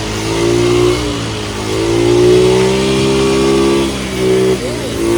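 A Suzuki Access scooter, started while still up on its stand, revs loudly and close, its engine note rising and falling in repeated swells for several seconds.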